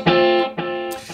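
An electric ukulele played through a delay effect pedal, two loud strummed chords ringing out with sustained, layered repeats that trail into a brighter echoing tail, close and alone.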